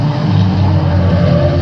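A junior banger race car circles the raceway, a loud, close, continuous engine roar with steady low harmonic tones.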